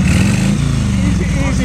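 Motorcycle engine running on wood gas, a homemade hog with a carburetor that had just fallen off and been put back, idling and revving loudly and steadily close by, with a voice talking over it.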